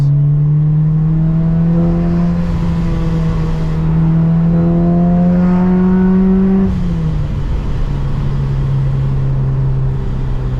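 A boosted Honda S2000 drives along with a loud, steady engine and exhaust drone heard from inside the car, its pitch rising slowly and then dropping suddenly as the revs fall.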